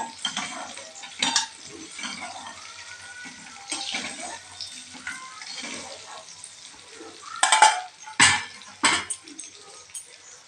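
Lightly fried eggs scooped from a pan into a dish with a utensil, producing soft scrapes and occasional sharper clinks and knocks among quieter background stirring sounds.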